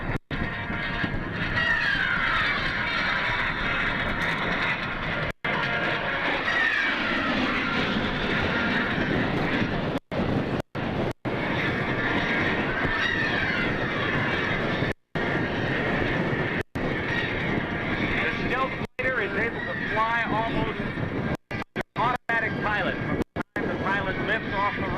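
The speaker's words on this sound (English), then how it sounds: "F-117 Nighthawk." An F-117 Nighthawk stealth jet passes at an airshow in Dayton, a sustained loud engine roar that swells and fades across the whole stretch, with a crowd and announcer-style talk over it and brief dropouts.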